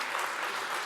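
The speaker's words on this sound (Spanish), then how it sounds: "quisiera un aplauso para ellos dos" A short burst of audience applause at a meat industry forum in Argentina, a dense, even clatter of many hands with no gaps.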